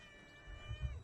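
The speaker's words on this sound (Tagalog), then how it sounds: "May pusa pa dito." A cat meows outdoors in cold, snowy weather in Armenia, a couple of low, close calls rising near the end over a faint steady background hum.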